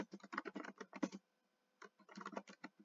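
Rapid clicking of computer keyboard keys in two bursts separated by a brief pause, close and crisp with no talk.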